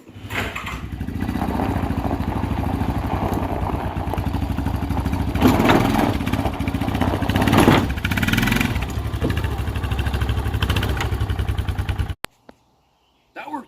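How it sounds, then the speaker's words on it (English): A restored Yamaha Big Bear 350 ATV engine starts and runs at a loud, steady, rumbling idle close by, with a few revs rising mid-way before it cuts off abruptly. "let's get this thing fired up and load it onto the trailer."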